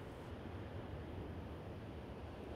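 Sea waves on the southern coast of Tenerife, a soft, steady wash of surf blended with wind rumble, faint and continuous with no distinct breaks.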